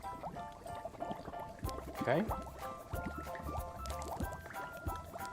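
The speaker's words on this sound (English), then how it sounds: "I'm going to take a little bit of water and pour in the cup" Water is poured from a small amount into a cup, giving a trickling fill with a rising, ringing tone and a few drips. A person talks briefly nearby.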